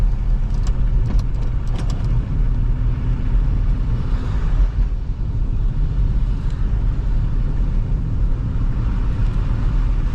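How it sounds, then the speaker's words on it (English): Tires of a 2005 Toyota Highlander hiss and splash through wet slush in a winter storm under a constant engine rumble inside the moving car, with a few faint rattles early on. "You can hear the slush."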